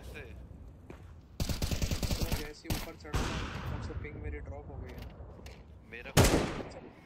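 Gunshots in Counter-Strike 2 come as a rapid rattling burst of automatic fire followed by scattered single cracks and a final loud shot, with a player talking over the action.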